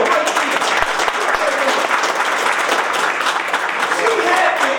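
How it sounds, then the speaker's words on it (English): An audience at a golf course and conference center ribbon cutting claps in sustained, dense applause that holds steady throughout, loud and close, with no break. "Give her another round of applause"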